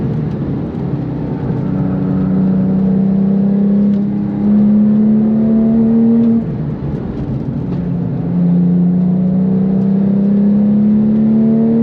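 A Porsche 997.2 GT3 flat-six engine pulls hard on the Nürburgring, a loud, steady high-revving howl rising through the gears with brief dips at shifts, heard from inside the car with no talk.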